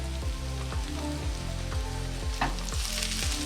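Green onion sizzling in a hot pan alongside browning pork chops, a steady loud frying hiss with a regular clatter of stirring or tossing running through it.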